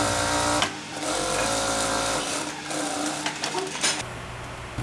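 A sewing machine stitches the side seams of a dress, a loud continuous motor whir with brief pauses and changes in speed, close and alone without talk.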